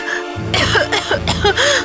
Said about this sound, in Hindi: ये स्टूपिड सी खांसी तो मुझे पागल बना रही है।